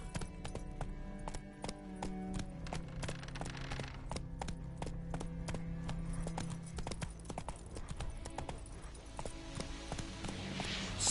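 The horse Roach gallops in a video game, its hooves striking in a rapid, steady clip-clop rhythm that carries on throughout, near and clear over a soft ambient bed.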